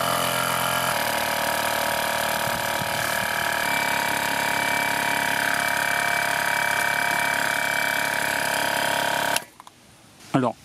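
LIDL Ultimate Speed mini air compressor running with a steady, fairly loud mechanical drone and buzz for most of the clip, then it stops and a few brief handling knocks follow.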